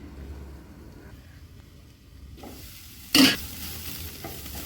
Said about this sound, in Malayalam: ഇനി ഇതെല്ലാം കൂടെ ഒന്ന് മിക്സ് ചെയ്തിട്ട് നമുക്ക് ചെറിയ തീയിലൊന്ന് അടച്ചിട്ടൊന്ന് വേവിക്കാം